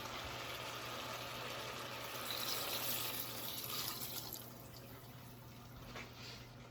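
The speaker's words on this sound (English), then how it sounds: "now we add our white wine" White wine pouring into a pot of beef bolognese, a soft steady liquid splash and trickle over a low background hum, close by with no talking.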